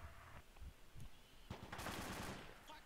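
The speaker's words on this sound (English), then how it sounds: "Heavy MG fire from the south" Heavy machine gun fire rattles in the Arma 2 military video game, a faint, distant-sounding stretch of rapid shots after a few scattered reports, with quiet radio-style talk around it.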